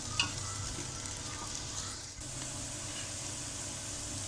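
Steady sizzling of onion frying in oil over medium heat, a constant crackling hiss that fills the whole clip without pause.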